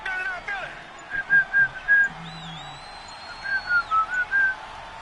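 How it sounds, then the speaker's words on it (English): Referee whistle in the Madden 19 football video game, a few short shrill tweets and a longer sliding whistle tone heard together with people talking and laughing over the game. "Now a whistle"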